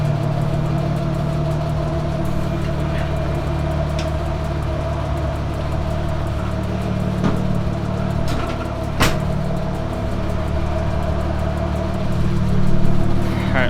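A Nissan S13 fitted with an RB engine rumbles steadily at idle or low speed throughout, with a slight swell in engine noise near the end and no talking.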